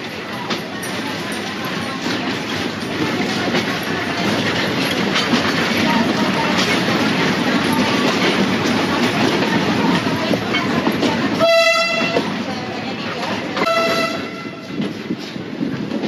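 A 100-year-old tourist train travelling about 20 km/h between Ambarawa and Tuntang in Indonesia rumbles steadily along the rails with clattering wheels, and two loud horn blasts sound near the end.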